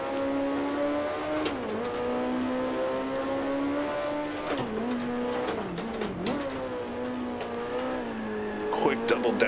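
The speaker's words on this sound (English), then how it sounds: "Quick double downshifts there." Vintage Grand Prix race car in the Grand Prix Legends racing game, engine droning steadily at high revs and dropping in quick double downshifts with brief blips, the harmonic engine tone dominant throughout with a voice talking over it.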